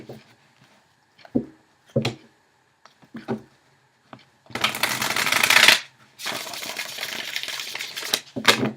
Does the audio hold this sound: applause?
no